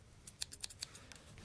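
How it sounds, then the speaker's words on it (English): Crafting scissors snip through fabric for a notebook cover, a quick run of sharp, close cuts in an irregular rhythm, quiet overall with no talking. "take your crafting scissors"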